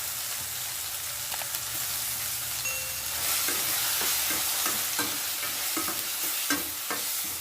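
Chopped tomato sizzling and frying in a hot pan for mutton kuzhambu, with occasional scraping taps of a spoon stirring it.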